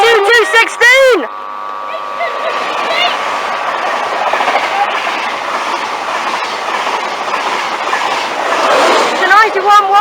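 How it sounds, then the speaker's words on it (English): The Sky 1 set train bound for King's Cross and Edinburgh passes through Newark North Gate station, a loud horn blast opening a long, close rush of rolling wagons and clattering wheels, with someone talking over it. "Here comes the Sky 1 set to King's Cross for Edinburgh."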